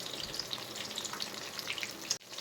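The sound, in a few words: vegetables frying in oil for sambar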